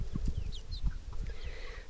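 Chickens let out to roam a backyard, clucking softly in short scattered bursts with faint chirpy calls, fairly quiet and close, no talking.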